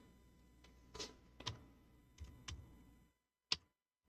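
A computer mouse clicks several times in quick, uneven succession, crisp and close, on an office desk during data entry, followed by a short silence and one final sharper click.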